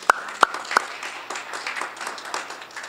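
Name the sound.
audience applause at graduation ceremony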